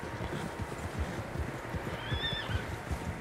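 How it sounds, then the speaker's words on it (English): Horses in the Red Dead Redemption 2 video game give a couple of high whinnies over steady hoof clip-clops and a low outdoor rumble, fairly close and moderately loud. "Horses, quite a few of them."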